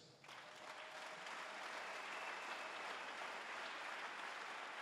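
Church congregation breaking into applause, the clapping swelling within the first moments into a thick, even roar of many hands that holds steady to the end.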